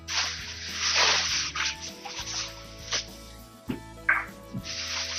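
A steady hiss of an aerosol can of non-stick coconut oil cooking spray, released in several bursts of varying length with brief pauses between.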